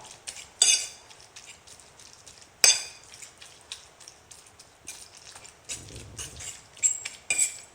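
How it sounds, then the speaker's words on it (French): Tuna and parsley stuffing for a tuna brioche is mixed in a bowl with a utensil: close, irregular scraping and clinking strokes, two sharper knocks against the bowl, and a soft wet churn near the end, with no talking. "Je vais mélanger ma farce correctement."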